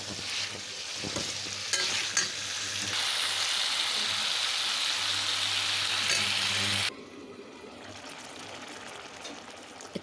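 Potato and raw banana curry stirred in a pan as the water dries off, a continuous close scraping sizzle that cuts abruptly to a quieter hiss near the end.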